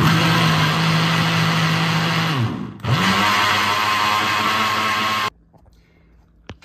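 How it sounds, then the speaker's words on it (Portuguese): A blender whirring as it beats sweet bread dough, a loud steady motor hum that dips briefly, resumes, then cuts off abruptly, leaving a quiet room. "Já bati bem batido no liquidificador"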